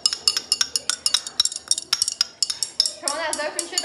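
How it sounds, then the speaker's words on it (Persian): A spoon scrapes and clinks repeatedly against a container while copper sulfate is spooned in for a color-change chemistry experiment with nails, giving quick sharp metallic taps close by, then a brief rustling pour. "الان یه قاشق تقریبا ما کاتکبود میریزیم توش"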